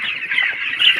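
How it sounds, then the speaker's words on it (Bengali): Chickens cluck steadily at feeding time, a close, busy stream of overlapping calls with no pauses. "এখন দেখুন আর মুরগি সব পালাচ্ছে আমাকে দেখে।"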